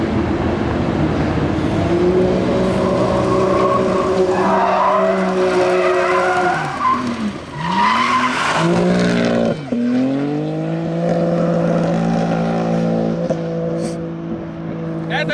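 A BMW M4 G82 with 275 tires drifts at a Sochi drift event, tires skidding and squealing loudly under a howling, revving engine that dips and surges over about fifteen seconds, with occasional voices in the background.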